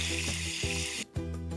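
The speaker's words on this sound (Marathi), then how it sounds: "मस्त खमंगाची फोडणी बसलेला, खूप छान सुवास दरवळतोय" Garlic paste and curry leaves sizzle in hot oil for a tempering, a close, steady hiss with a few stirring knocks and a brief dip before the frying resumes.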